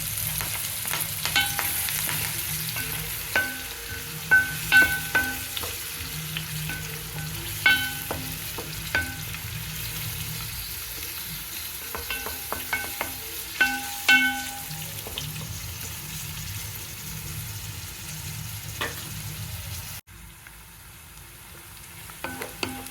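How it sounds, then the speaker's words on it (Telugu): Onion pieces, green chillies and curry leaves fry in hot oil for a fish curry, a soft continuous sizzle punctuated by sharp, irregular clinks and scrapes of stirring, cutting out abruptly near the end. "ఉల్లిపాయ ముక్కలు వేగిపోతున్నాయండి"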